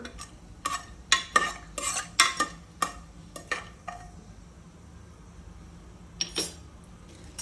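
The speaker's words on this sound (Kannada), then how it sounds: "ಲವಂಗ ಅನಾನಸ್ ಏಲಕ್ಕಿ ಇಷ್ಟು ಹಾಕಿದ್ದೀನಿ ಈಗ ಬಾಡಿಸೋಣ" Whole cloves, star anise and cardamom sautéed in a pan for donne biryani, with a spoon stirring in quick scrapes and metallic clinks through the first half, then a lone stir later over a faint sizzle; no voices.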